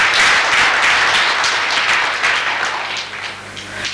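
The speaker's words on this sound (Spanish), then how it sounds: "Den un aplauso al Señor, un aplauso a Dios" Church congregation applauding at a Sunday sermon, a dense, steady wash of many hands clapping that fades slightly toward the end.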